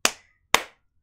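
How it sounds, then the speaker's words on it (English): Two sharp hand claps about half a second apart, close and clear with quick decay, marking the beat of a children's action song in a classroom circle time. "clap your hands."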